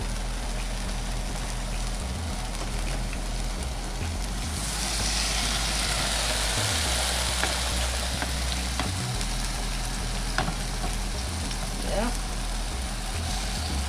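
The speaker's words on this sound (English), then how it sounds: "Other oil is popping, starting to pop, so that is about ready." Fish and potatoes fry in hot oil, a continuous sizzling crackle with occasional pops over a steady low rumble, persisting throughout at fairly close range.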